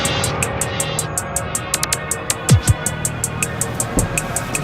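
An Itawa electric car, built in Burkina Faso, drives along, giving a soft rolling hum under a steady series of light ticks, with a couple of quick swishing tire squeals partway through.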